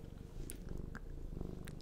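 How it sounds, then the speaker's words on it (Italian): A domestic cat purrs up close, a steady low rumbling drone running through the whole stretch with soft, rhythmic pulses and a few faint clicks on top. "fa le fusa, tenta di buttare giù il microfono"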